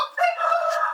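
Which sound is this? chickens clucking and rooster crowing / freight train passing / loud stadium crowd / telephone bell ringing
chickens clucking and rooster crowing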